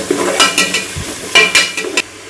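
Chopped tomato is added to onions frying in sunflower oil for a fish biryani, giving loud close sizzling bursts and several scraping stirs of a spoon against the pan over about two seconds.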